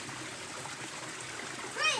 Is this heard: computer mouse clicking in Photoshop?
no